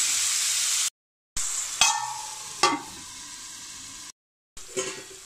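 Onions frying in a pan for a broccoli tomato curry, a steady bright sizzle broken by short gaps, with a few clinks of a utensil against the pan.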